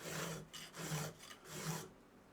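A hand file rasps across a chainsaw chain tooth in three steady back-and-forth strokes. The scraping is close and rhythmic, with brief pauses between strokes and no talking.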